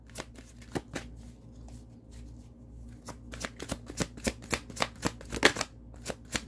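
Tarot cards are shuffled and drawn from a deck in a quiet room, a soft run of riffling card flicks that speeds into quick, close snaps.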